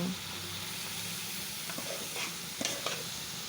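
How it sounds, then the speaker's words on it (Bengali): Bathua greens are tipped into frying shrimp, giving a steady soft sizzle with a few sharp scraping stirs and clatters near the end. "আমার এই চিংড়ি মাছ ভুনাটা হয়ে আসছে, এখন আমি শাকগুলো ঢেলে দেব"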